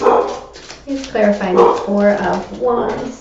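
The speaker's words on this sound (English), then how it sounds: "Sorry about the dog barking." A dog barks and yips several times in the background while a person speaks over it.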